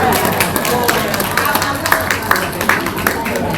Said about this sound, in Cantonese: 熱烈掌聲